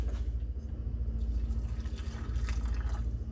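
Pickling liquid pours into a canning jar of hot peppers, a steady gurgling trickle with small splashes running throughout, close and moderately loud over a low hum.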